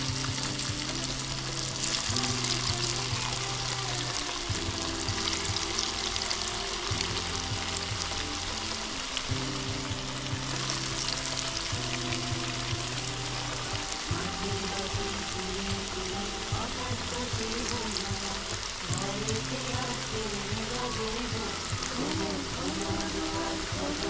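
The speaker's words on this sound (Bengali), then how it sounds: "এইবার একে একে আমি এই চৌকো করা পিসগুলো ভেজে নেব। লাল লাল করে ভেজে নেব।" Square pieces of mung malai pitha deep-frying in hot oil over low heat, a steady dense sizzle and crackle running throughout with a low hum beneath, no talking.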